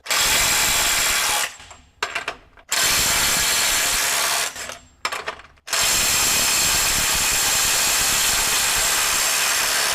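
A RIDGID 18V SubCompact cordless impact wrench running in reverse at its highest power mode, loosening a fastener with loud, close, continuous hammering bursts broken by two short pauses with quick trigger blips.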